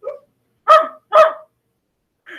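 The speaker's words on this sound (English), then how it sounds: "Listen as Golly barks the words in his speech balloon to show he is excited about Oswald's idea" Three short barks from a cartoon dog character in a children's reading lesson, close and clear, the middle two loud and evenly spaced with a softer yip at the start and end.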